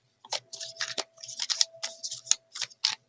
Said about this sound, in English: I wish I knew how to shuffle that way.